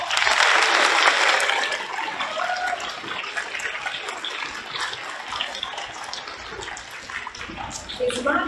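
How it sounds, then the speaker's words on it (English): Applause at a Veterans Day school assembly, honoring a student who introduced the guest speaker: dense, hissy clapping from a hall crowd, strongest at the start and holding steady for several seconds, with faint murmuring mixed in. "Please give her a round of applause."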